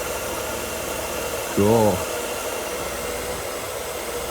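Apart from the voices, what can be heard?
car engine air pump running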